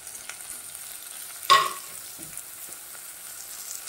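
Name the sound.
tomatoes added to frying onions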